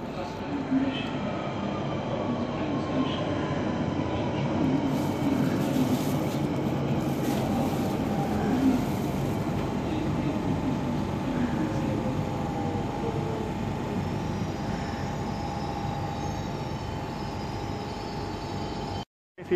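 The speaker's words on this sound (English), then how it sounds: "I'll wait for a train to leave." A train idles and moves at a snowy station, a steady rumbling hum with faint whines and squeals that carries on without a break for the whole stretch.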